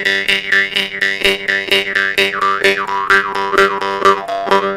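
A twangy jaw harp plays a fast, bouncing rhythm up close, its buzzy overtones sweeping and wah-ing as the mouth shape changes.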